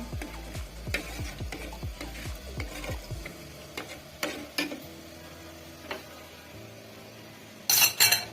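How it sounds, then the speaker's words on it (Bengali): A spoon stirs a mixture in a pan for semai pitha, steady scraping clicks in a quick rhythm, then a few scattered knocks and a brief louder clatter at the end. "এইভাবে মিশিয়ে নেব"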